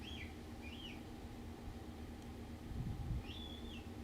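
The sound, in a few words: birds calling outdoors in nature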